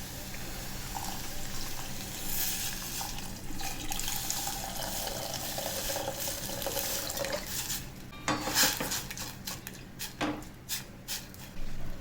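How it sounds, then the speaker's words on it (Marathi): Water runs and splashes steadily into a pot for ragi soup, with faint clinks of cookware and a few louder sloshes near the end. "त्यामध्ये आपल्याला पाणी घालायचं आहे."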